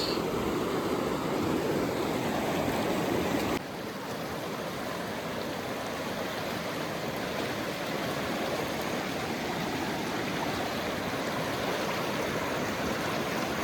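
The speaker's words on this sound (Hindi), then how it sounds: "ये है जी कोसी रिवर।" Kosi River running high after three to four hours of continuous rain, a steady broadband rush of flowing water that stays loud and unbroken throughout, with no voices.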